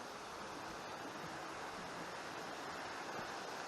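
Cheyenne Creek flows in a steady, full rush of water past a duck pond with little bridges, carrying some wood debris, a continuous broadband wash heard up close with no talk.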